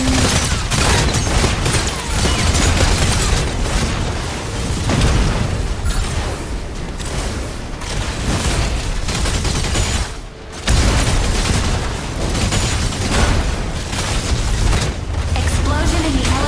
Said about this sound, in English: Explosion in the elevator's midsection.